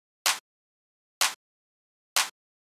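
A cracky, full clap sample of the 808 or 909 kind for a house track, struck three times alone at an even, slow pace, each hit short and bright.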